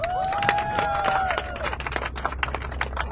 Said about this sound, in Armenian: Արժի, որ գնահատեք մեր DJ-ի երեկվա աշխատանքը ծափերով։